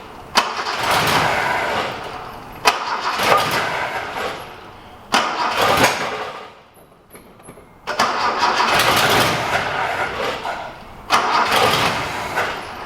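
A Holden six-cylinder engine fitted in a Datsun 240C cranks over repeatedly without catching, with several long churning starter attempts separated by short pauses, loud and close.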